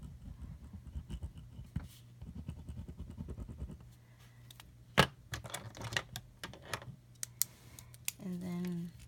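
A Papermate InkJoy pen writes on paper in pink with quick, faint scratchy strokes and light taps, with a voice speaking briefly before and after.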